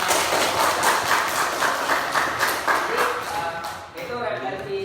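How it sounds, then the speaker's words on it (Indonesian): A chemistry class in a classroom applauds together, a dense burst of many hands clapping that fades out near the end as a voice begins speaking. "Tepuk tangan dulu."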